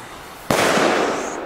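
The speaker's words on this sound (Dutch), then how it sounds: "de hardste knal van België" Quiet hiss, then a sudden very loud firework bang erupts and rolls into a long, noisy roar that slowly fades.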